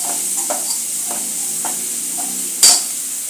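Onion fries lightly in a pan for cabbage manchurian with a quiet, steady sizzle. Several soft stirring scrapes come at intervals, and a sharper clink lands near the end. Nobody speaks.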